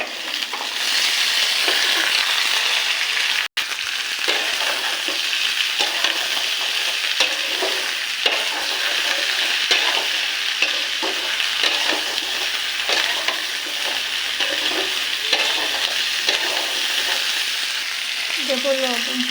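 Mixed vegetables frying with small fish for a Bengali chorchori, a continuous bright sizzle in a pan with frequent stirring scrapes and clinks, fairly close and steady throughout, with no talking.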